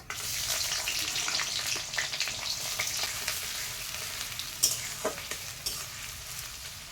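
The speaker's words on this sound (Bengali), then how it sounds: "তেজপাতা, গোটা গরম মশলা। তার উপরে দিয়ে দিচ্ছি পেঁয়াজ।" Sliced onions hit hot oil with dry red chillies, bay leaf and whole garam masala, giving a loud, steady close sizzle with scraping stirs and occasional sharp crackles.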